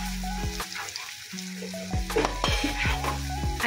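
Onions sizzle and fry in a pan while being stirred, with a steady hiss broken by clinking scrapes of the utensil against the pan.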